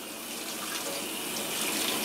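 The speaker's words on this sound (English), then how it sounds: "I'm going to rinse the cherries in a colander." Tap water runs steadily over sweet Bing cherries in a colander, a continuous close hiss and splash that holds level throughout.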